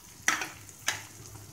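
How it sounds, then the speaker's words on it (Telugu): A spoon scrapes through a tomato, salt, chili powder and turmeric mixture frying in a pan, two short scraping strokes over a soft, steady sizzle, close and without talk. "బాగా కలుపుకుని ఒక 2 నిమిషాలు వేయించుకోవాలి"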